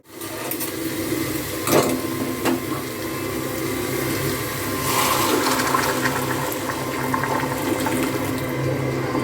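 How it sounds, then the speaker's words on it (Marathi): Hot water is poured into a Malvani surmai fish curry base of roasted spices and ground masala, giving a steady splashing, gurgling pour that runs for about nine seconds at moderate volume, with no talking. "आता आपण ह्याच्यामध्ये गरम पाणी ॲड करणार आहोत"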